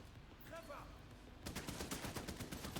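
A gun turret fires in a video game during a Washington match, a rapid burst of shots starting halfway through after a quieter stretch, loud and close with a brief voice earlier.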